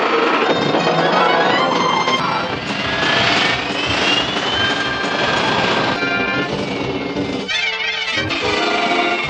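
Turbines of the Batmobile from the classic TV series spool up with a loud, rising jet-like whine over a rumbling roar, followed by brief beeping electronic tones near the end.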